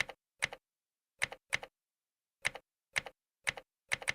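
Typing on a computer keyboard: eight short bursts of quick clicking keystrokes separated by silent gaps, close and faint.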